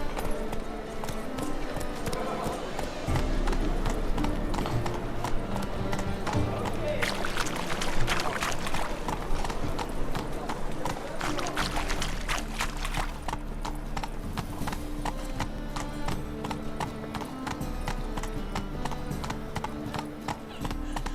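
Roach the horse's hooves clip-clop in a steady trotting rhythm in The Witcher 3, up close and continuous under game music and character voices, with a brief whinny.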